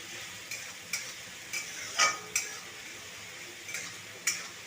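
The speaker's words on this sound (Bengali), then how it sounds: "মশলাটাকে ভালো করে কষিয়ে নেব।" Ground spice paste and chopped tomato cooking in a pan, a soft, steady sizzle broken by about seven sharp scrapes and clinks of a spatula stirring against the pan, with no talking.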